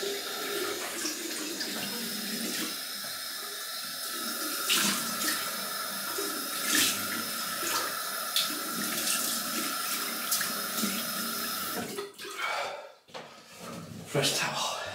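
Cold water runs from a bathroom tap into a sink, a steady hissing splash that holds for most of the stretch before cutting off near the end, followed by a few brief knocks and handling sounds.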